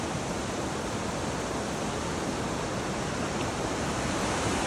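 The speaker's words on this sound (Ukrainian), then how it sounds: "дивіться як вода приходить" Floodwater surges down after heavy hail upstream, a loud, unbroken roaring rush of water filling the whole scene close by and steady throughout.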